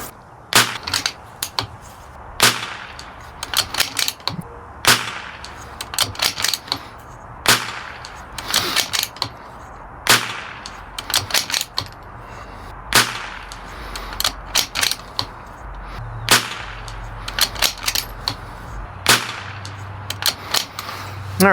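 Rifle gunshots ring out loud and close, fired without a suppressor in spaced volleys of five-shot groups, each sharp crack followed by a short echoing tail, with brief pauses and faint handling between strings.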